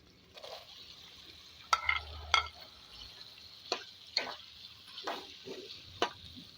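Potatoes go into a pan of softened tomatoes, producing a quiet, faint sizzle punctuated by several sharp irregular clinks and scrapes of a spoon against the pan, close and with no speech.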